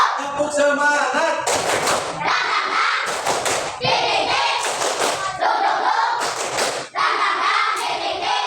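Students in a classroom do a rhythmic spirit clap, loud bursts of hand claps and thumps in a patterned beat, with children's voices shouting between the claps.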